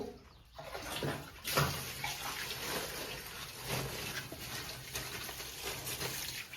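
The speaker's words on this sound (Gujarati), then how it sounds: "હવે આપણે આને પૂરેપૂરું પાણીથી ભરી દેશું" Water pours steadily into a container packed with leaves for making compost, a continuous gushing fill heard close but at low volume, with a brief clatter near the start and no speech.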